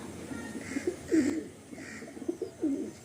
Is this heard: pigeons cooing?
yes